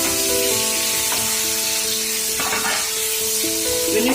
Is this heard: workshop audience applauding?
no